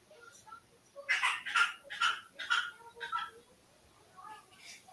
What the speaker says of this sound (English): That's a funny looking dog.